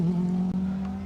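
A Proton Iris rally car drives through a special stage with its engine holding a steady, loud, close drone and a brief dip in the middle, with no talk over it.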